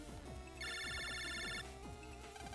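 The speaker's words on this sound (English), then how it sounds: "Lan, it's your phone." Ringtone-style phone chime from the Mega Man Battle Network 5 video game, a bright repeating electronic trill lasting about a second, loud over busy in-game music and sound effects.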